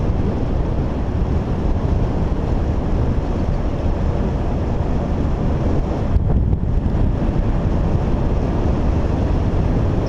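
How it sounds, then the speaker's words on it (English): Loud, constant wind buffeting the microphone while riding a Smart Pie electric bike fitted with a Golden Motor hub motor, a steady broadband roar that fully masks any motor sound, with a short dip near the middle. "All I hear is the wind."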